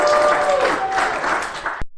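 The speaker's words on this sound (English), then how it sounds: "Let's give another round of applause for Joanne." An audience applauds a guest named Joanne on a business show, a loud, steady burst of clapping that cuts off abruptly after about two seconds.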